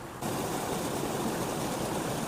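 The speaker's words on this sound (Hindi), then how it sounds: "परसों की बारिश से देखो गदेरा का पानी कितना ज़्यादा बढ़ा हुआ है।" A mountain stream swollen by rain, rushing in a continuous dense roar of flowing water that swells up just after the start and then holds steady and fairly loud with no talking.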